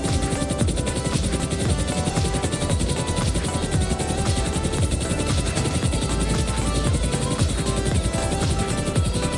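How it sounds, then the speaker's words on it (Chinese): A helicopter in the GTA video game, flying and setting down, gives a loud, steady rotor and engine drone that fills the whole stretch, dense and unbroken with a faint rhythmic chop, and no talk over it. "将直升机飞到一个安全的地方停放，并好好的看这一台直升机的外形。"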